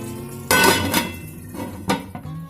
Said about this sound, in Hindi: तो इसको मैं 2 मिनट के लिए और ढक दूंगी